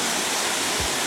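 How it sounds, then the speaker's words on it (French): Rushing water of the crayfish cascade in Guadeloupe, a dense, loud, steady roar of falling water filling the short moment with no other sounds. "Notre première station, donc la cascade aux écrevisses."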